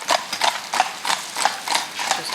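Horses trot in harness on a road, pulling a carriage, their hooves clip-clopping in a quick, regular two-beat rhythm, close and distinct, with no voices.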